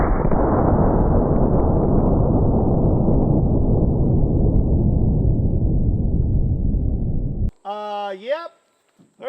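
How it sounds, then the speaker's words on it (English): A .50 BMG round fired into a one-gallon container of Grey Poupon mustard outdoors sets off a sustained loud, roaring boom that fades slowly, followed by a voice exclaiming at the end. "So next we are gonna shoot a 1-gallon container of gray poupon."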